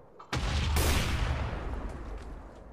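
A grenade in the blocky shooter Minestrike (Minecraft) goes off with one sudden, loud boom that rolls into a long, fading rumble, heard alone.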